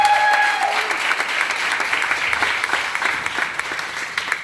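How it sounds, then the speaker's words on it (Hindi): Audience at a Christian church gathering claps loudly and steadily, a dense, close burst of applause that holds throughout without fading. "वाह, एक अच्छी ताली जोर से यीशु के लिए।"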